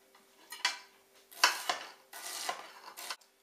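Knife finely shredding vegetables on a board, a few quiet, separate cutting strokes and clatters in a short, irregular rhythm, close by with no talking.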